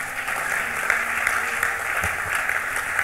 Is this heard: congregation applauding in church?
yes